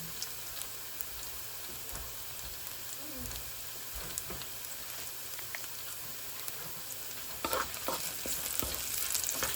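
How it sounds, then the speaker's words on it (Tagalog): Garlic frying in a pan at the start of Bicol Express, browning in oil with a steady, soft crackling sizzle, occasional stirring clatters, close and alone. "Lutuin natin mabuti yung ating guys, yung ating bawang. Iyan natin siya. I-golden brown natin yung bawang."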